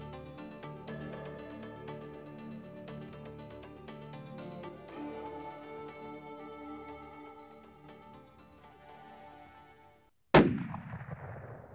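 A single loud rifle shot cracks out close by near the end of a hunt in the Colorado wild, after a stretch of steady background noise, and a ringing decay follows.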